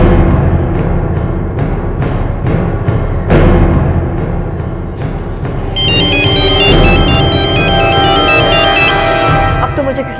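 A phone ringtone for an incoming call plays loudly, a repeating electronic melody that enters over a dense, loud dramatic music bed, with no clear talk.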